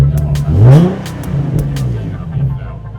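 A Nissan 370Z 40th Anniversary Edition engine gives a short, loud rev that rises and falls within the first second, then settles into a steady idle hum, heard close up.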